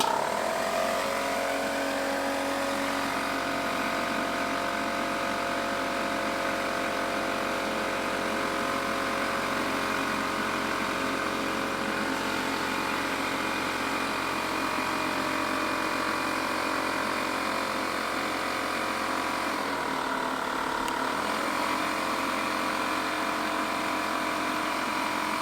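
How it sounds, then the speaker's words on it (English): A loud, steady whir of a hair dryer powered by an Alpha ESS portable power station blows continuously at close range, dipping briefly near the end before resuming. "I did turn on the hair dryer"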